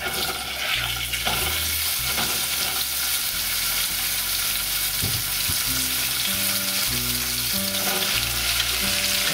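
Vegetables stir-fry in olive oil in a hot pan, giving a loud, steady sizzle with spatula scrapes and stirring clatter throughout, with no talking.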